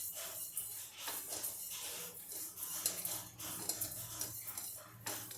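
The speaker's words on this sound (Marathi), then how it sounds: "शोप छान भाजून घेऊया." Fennel seeds dry-roasting in a pan for a jackfruit pickle, heard as rhythmic rattling and scraping of seeds and a spoon against metal, close and fairly quiet, with no speech.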